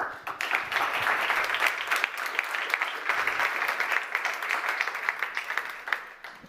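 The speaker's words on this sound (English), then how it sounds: "Let's applaud Michael." Sustained applause from an audience at a startup pitching event, a dense, even wash of many hands clapping for several seconds at moderate distance, without talk.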